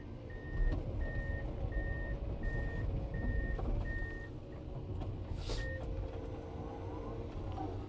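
A Komatsu PC210 21-ton excavator's reversing alarm sounds a steady series of evenly spaced high beeps, then one more after a pause, over a low, constant engine rumble.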